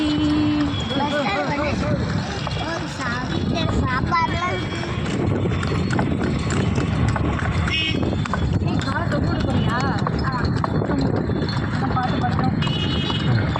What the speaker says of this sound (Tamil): குதிரை வண்டியில டிராவல் பண்றோம்.